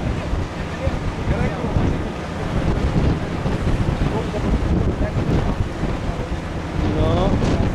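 Strong wind buffets the microphone on a small boat at sea while waves rise and slosh against the hull, a loud continuous roar with surging swells and brief faint voices underneath.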